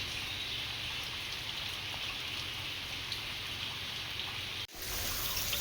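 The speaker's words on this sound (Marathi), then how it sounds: "जोराचा पाऊस आलाय" Heavy rain falling at a resort farmhouse in Badlapur, a steady, dense hiss of drops on surfaces that holds evenly throughout, broken by a brief cut near the end before resuming.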